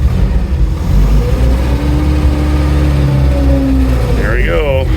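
A 1997 Honda Civic coupe's engine runs steadily with the choke partly on, a low continuous drone filling the background while people talk over it.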